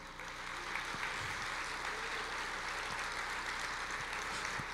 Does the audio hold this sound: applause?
yes